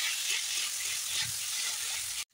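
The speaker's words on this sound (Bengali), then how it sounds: "তো একটু সুন্দর করে লাল লাল করে ভাজিয়ে নেবো।" Ground spice paste with chillies and ginger fries in a pan with a bright, continuous sizzle, a few soft stirring scrapes underneath, close up and cutting off abruptly at the end.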